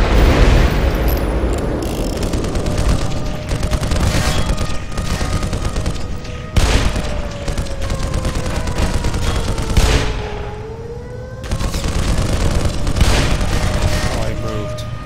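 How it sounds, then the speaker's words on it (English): Loud, rumbling explosions and heavy combat noise from the video game Black Mesa, a dense continuous roar with booming blasts that briefly drop out and resume, including a descending whistle like an incoming rocket. "that was a rocket or something."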